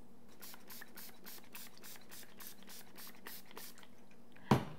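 A pump spray bottle of 99% rubbing alcohol spritzes onto freshly poured soap in about a dozen quick, evenly spaced short bursts, fairly faint, ending with a louder knock or clunk.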